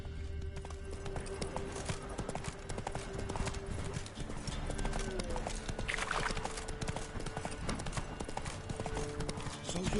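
Roach, the horse in The Witcher 3, trots with a steady, continuous clip-clop of hooves throughout, loud and close, with occasional faint vocal sounds and other game audio in the background.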